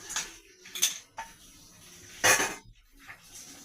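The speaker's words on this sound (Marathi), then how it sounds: "मी कढई ठेवते गॅसवर" A few metallic clanks and scrapes of a wok being set down on a gas stove, sharp and close, with quiet gaps between.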